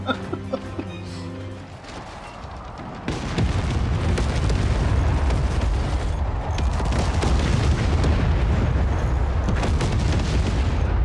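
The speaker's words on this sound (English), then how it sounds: "That's a shotgun." Shotgun weapon firing in the multiplayer video game Forts, followed by a dense sustained roar of booming impacts and explosions that stays loud and continuous after a brief quieter lead-in.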